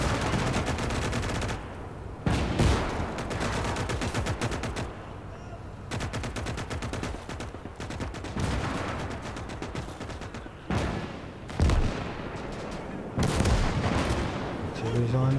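Battlefield din from Gates of Hell: continuous crackling small-arms and machine-gun fire punctuated by heavy artillery thumps and impacts, steady and layered at mid distance.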